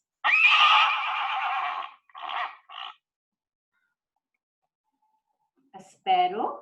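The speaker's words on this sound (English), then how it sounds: "A horse neighs." A horse neighs in a loud, drawn-out whinny followed by two shorter bursts, then silence before a final brief whinny near the end, heard alone.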